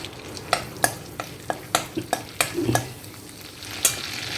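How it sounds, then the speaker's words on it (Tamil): Cumin seeds and a single bay leaf sizzle in hot oil while being stirred, a close frying hiss punctuated by a series of sharp scraping clinks of the spoon against the pan. "இப்போ இந்த எண்ணெய் காஞ்செடுத்து இதில் நான் கொஞ்சம் ஜீரம் போட்டுக்கிறேன்."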